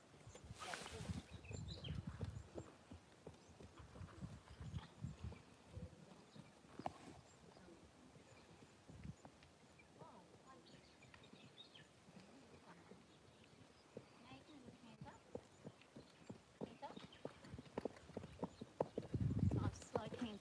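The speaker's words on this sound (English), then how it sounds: "Nice slow canter." A horse's hooves drum in a slow canter, a muffled rolling clip-clop heard fairly faintly and at a distance, with a person talking over it and a brief whinny near the end.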